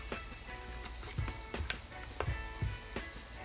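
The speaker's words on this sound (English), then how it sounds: "So just whisk this, or stir this, and you'll see it thickens up a little bit." Batter for traditional fish and chips is whisked in a bowl, producing quiet, rhythmic scraping strokes with sharp clicks roughly every half second.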